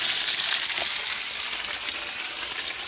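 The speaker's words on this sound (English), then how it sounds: "We are behind the little waterfall here" Close up behind the little waterfall at Peachtree Rock in Lexington, South Carolina, a steady, bright rush of falling water hisses without a break.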